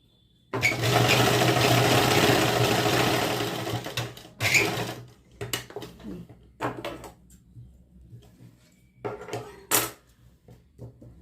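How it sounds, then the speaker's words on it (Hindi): A sewing machine runs a long continuous basting seam on a size 46 kurti, then follows with several short stop-start bursts and small handling clatters, close and clear with no talk. "अब यहाँ पर एक पहले कच्ची सिलाई लगा देते हैं।"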